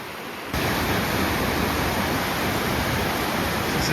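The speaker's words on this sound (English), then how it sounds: "This is the second waterfall of the day." Loud, dense roar of a waterfall feeding a public water supply, starting quieter for half a second and then becoming a constant heavy rush of falling water, close and unbroken.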